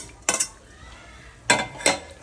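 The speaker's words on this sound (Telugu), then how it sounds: "ఇలా అల్లం వెల్లుల్లి పేస్ట్ బాగా వేగాక దీంట్లోనే చికెన్ వేసుకోవాలండి." A utensil scrapes and clinks against a pan as chicken is stirred into fried ginger garlic paste for chicken pickle, with three short, close, distinct scraping strokes and quiet pauses between them.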